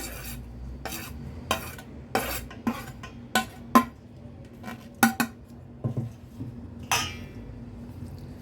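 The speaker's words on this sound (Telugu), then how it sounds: "అటుకుల్లో కొబ్బరి వేస్తున్నాను." Coconut being mixed into flattened rice in a bowl with a spoon, giving a series of sharp scraping clinks and taps at an irregular rhythm, close and fairly crisp, with no talking.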